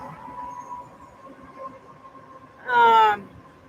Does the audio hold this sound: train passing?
yes